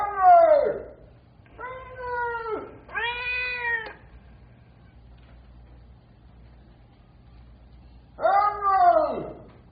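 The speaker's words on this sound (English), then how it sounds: "The cat's over here" A cat meows in a radio drama: a few loud, close, drawn-out cries in quick succession, a pause, then one more, over a low steady hum.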